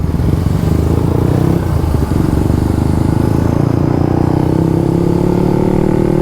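Several Suzuki motorcycles, Raider FI, Raider Carb, Sniper 150 and Sniper 155, ride together at night, with a loud, steady engine drone that rises slowly in pitch as they accelerate and holds without a break.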